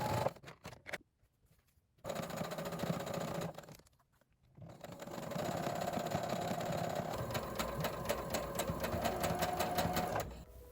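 A sewing machine stitches thin, stretchy blouse fabric in fast mechanical bursts, stopping briefly between runs, then running steadily for a long stretch, close and clear with no talking.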